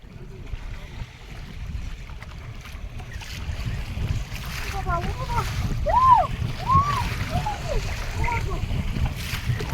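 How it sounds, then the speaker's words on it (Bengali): Strong storm wind and choppy, whitecapped waves on the Gangal river near the Marichjhapi forest, heard as a continuous loud rushing roar with water splashing and a few brief higher calls rising over it. "নদী পুরো সাদা হয়ে আসছে ঢেউয়ে আর দক্ষিণ সাইডে কালো মেঘ সেই সাথে প্রচণ্ড হাওয়া"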